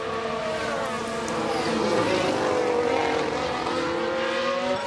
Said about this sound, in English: Sounds like there's been a crash.